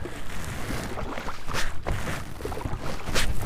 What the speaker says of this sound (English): I'm just rowing instead of the motor. See that? Got my oars going